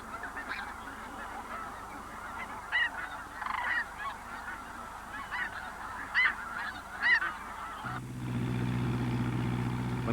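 Sandhill and whooping cranes call in the wild with repeated loud, bugling honks in irregular bursts, followed by a low vehicle engine rumble toward the end.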